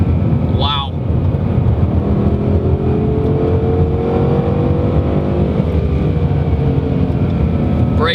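A 2015 Ford Mustang GT with a stock shifter pulls hard through the gears, its engine roaring loud and close with steadily climbing pitch, while a driver speaks briefly over the noise.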